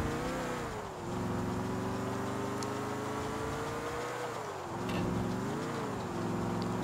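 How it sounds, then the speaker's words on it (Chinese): A broken-sounding old car engine in GTA IV drones steadily with a rough, buzzing hum, dipping briefly around the first second and again near the fifth, running continuously and fairly close. "呢架車咧個引擎聲好似滯壞咁樣樣"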